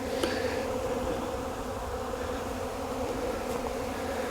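A dense, steady hum of many honey bees buzzing close by while feeding on honey, continuous throughout with no talking.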